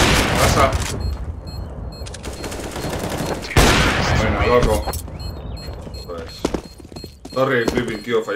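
Gunfire in a competitive shooter game: bursts of rapid shots and heavy booms crowd the first half, then sparser single shots follow, all under players talking over voice chat.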